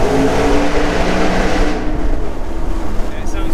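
A Maserati GranTurismo S in sport mode with windows down gives a loud, deep exhaust drone that swells and eases, heard from inside the car with road and wind roar beneath.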